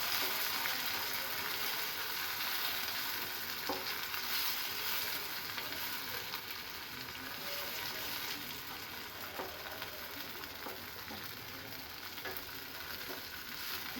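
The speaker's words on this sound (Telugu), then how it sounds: "టమాటో మెత్తబడే వరకు ఒక 10 నిమిషాల వరకు కలపాలి" Tomatoes stirred and fried in a pan for egg curry, giving a steady, fairly quiet sizzle throughout with occasional soft scrapes and clicks of the spoon against the pan.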